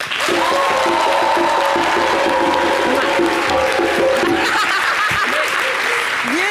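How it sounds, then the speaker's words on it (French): A large television studio audience applauds loudly and continuously, with some cheering and scattered laughter mixed into the clapping. "Et vous êtes formidables, applaudissez-vous."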